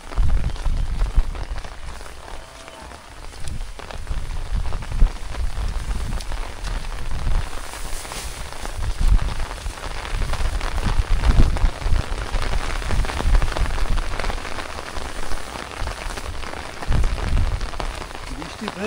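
Steady rain falls on a river char village in Bangladesh during the monsoon, a dense continuous hiss of drops on surfaces with low rumbling swells, heard without speech.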